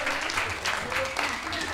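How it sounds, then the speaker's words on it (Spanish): A crowd applauds the fourth-year secondary class at the opening of their campfire celebration: brief, steady clapping with a voice over it. "Fuerte el aplauso para el cuarto medio 2021"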